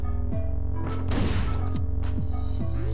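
Shotgun fire in the video game Hotline Miami: a burst of gunshot blasts lands over a steady, loud synth music track, with sliding electronic tones running throughout.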